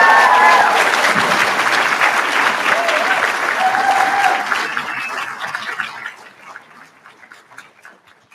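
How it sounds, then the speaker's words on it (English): Graduates at a winter graduation ceremony applaud and cheer in a large hall, a dense, loud wave of clapping that holds steady, then thins and fades to scattered claps toward the end. "your turn to applaud, but also I hope to cheer and whoop a little"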